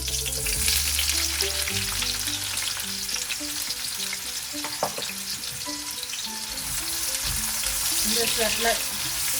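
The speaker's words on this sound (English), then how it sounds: "Once it's heated, we're going to add in our onions." Onions fry in heated oil in a pan with a loud, continuous, close sizzle, broken by occasional stirring scrapes and a few light clinks.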